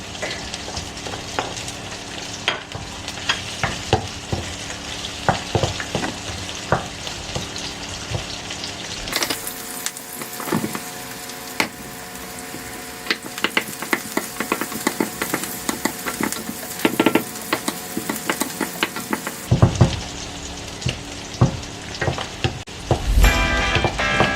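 Garlic frying in a pan for salmon bone sinigang, a steady crackling sizzle with occasional stirring knocks, fairly close and continuous, with no talk over it.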